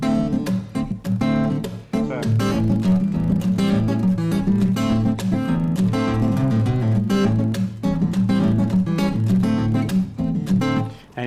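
Fingerstyle acoustic guitar with a steady thumb bass line under plucked finger melody and chords, bright crisp attacks in a busy continuous rhythm, close and loud with no talking.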